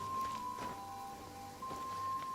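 Soft, steady rain hisses evenly in a video game scene, faint and continuous, with a thin steady tone running underneath and no voices.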